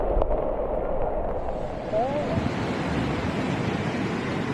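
Floodwater rushing through a village in Turkestan region, Kazakhstan, after heavy May rains: a constant, loud, close roar of moving water with no break.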